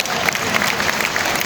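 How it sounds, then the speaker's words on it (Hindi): A seated audience at a gathering bursts into a brief, loud, dense round of continuous clapping. "एक बार जोरदार तालियां।"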